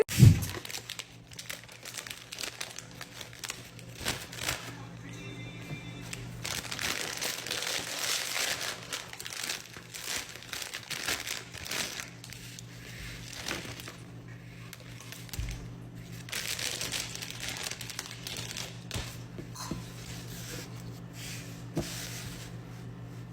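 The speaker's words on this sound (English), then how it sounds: "So I just opened my new toilet paper, and when I pulled it out, I can feel the difference." Fresh toilet paper being handled and pulled from its packaging, a soft continuous crinkling and rustling that swells in bursts, close and fairly quiet, with no talking.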